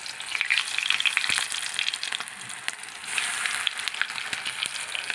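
Capsicum bondas coated in batter with beaten rice, dropped one by one into hot oil, sizzle and crackle steadily in a continuous bright frying hiss, close and fairly loud, with no voices.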